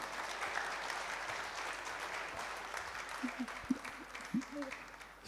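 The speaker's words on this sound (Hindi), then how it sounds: "अशरफ भाई के लिए भी तालियां उसी तरह बजाएं आप।" An audience at an Arts Council of Pakistan tribute event in Karachi applauds, a steady wash of clapping from the hall with a few louder nearby claps and some voices underneath.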